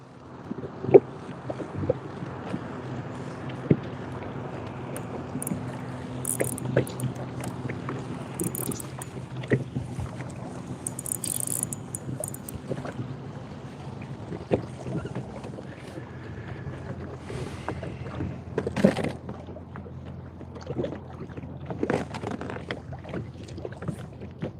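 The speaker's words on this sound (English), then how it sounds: "You guys got to be able to hear this wind now." Wind sweeps over Conneaut Lake in Pennsylvania during a bass and panfish outing from a boat. It makes a steady, close rushing roar that buffets the microphone, with occasional knocks and creaks from the boat and no talking.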